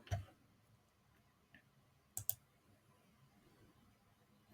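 A computer mouse clicks to open the Claude desktop app. One soft click comes near the start and a quick double click follows about two seconds later, in an otherwise near-silent room.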